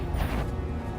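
A Confringo blasting spell is cast in a Harry Potter video game, giving a loud, dense, rumbling burst that fills the whole second without a break.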